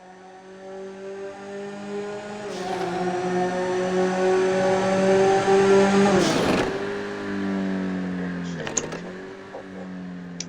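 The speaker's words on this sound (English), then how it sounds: "I think the Stinger doesn't sound bad, but then there's nothing particularly about it that sounds that good either" Grotti Stinger sports car engine in GTA V, revving and holding a rising tonal drone, with a sharp shift near the middle and another rev burst later, loud and without talk.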